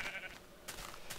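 A sheep in a video game gives a short bleat, followed by soft thuds and brief noisy bursts, quiet and close.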